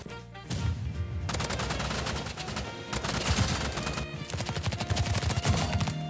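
Uzi fire in Roblox Rivals: dense, rapid bursts of close, loud automatic shots, broken by a brief gap near the middle and then resuming, with no talk over them.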